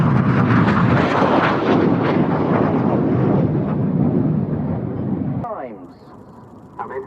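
Aerobatic display aircraft roaring past at the RAF Cosford Airshow in 2015: a loud, continuous engine rumble that fades over several seconds, with a voice speaking faintly near the end.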